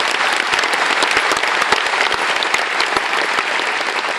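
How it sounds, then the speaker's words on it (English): Steady, loud applause from a large audience at a citizenship ceremony in a Dublin convention centre, honouring the band musicians, with dense continuous clapping throughout and no talk over it. "I'd ask you to give them a round of applause"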